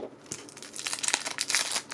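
Crinkling cellophane wrapper torn from a Magic: The Gathering 4th Edition Dutch two-player card set, close and fairly quiet, a run of irregular crackles and rips thickening toward the end.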